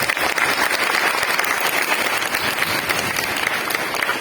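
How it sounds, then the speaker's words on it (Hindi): An audience at an International Girl Child Day event claps loudly and continuously, a dense, even wash of applause filling the room with no pauses, heard close and without talk over it. "वो लोग अपने लिए जोर से ताली बजाएंगे।"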